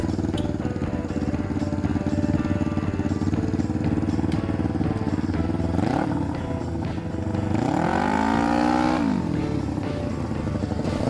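Go-kart powered by a Kawasaki Ninja 250 motorcycle engine drives past with a continuous, loud, buzzy engine drone. Revs sweep up and down twice as it accelerates and eases off.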